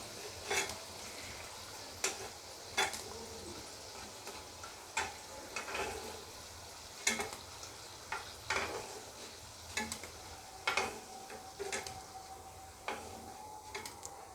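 Gulab jamun frying in oil, heard as a quiet, soft bubbling sizzle with a dozen or so sharp clicks and taps from a utensil against the pan at irregular intervals.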